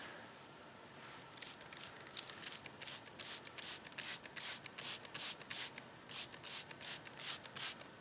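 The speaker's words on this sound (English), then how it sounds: "Just going to broadcast some of it and spray it on a tree right here." Short bursts of synthetic Buck Fever deer scent sprayed onto a tree on Michigan public land, a rapid train of hissing puffs repeated a dozen or so times, close and fairly quiet.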